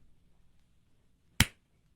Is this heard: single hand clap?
yes